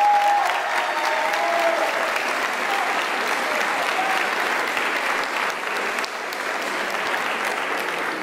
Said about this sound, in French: vous pouvez vraiment leur offrir un tonnerre d'applaudissements